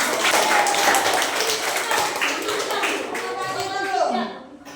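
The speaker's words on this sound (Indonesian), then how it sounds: "di tempat tepuk tangan semua" A classroom group claps together in a dense, close burst that holds steady and then fades away, with voices mixed in under the clapping.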